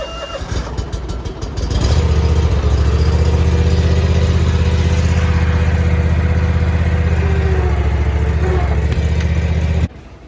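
A Dixie Chopper riding lawnmower engine starts and runs at a steady loud drone for several seconds at an outdoor equipment auction, then cuts off abruptly.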